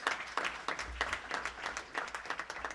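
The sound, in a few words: applause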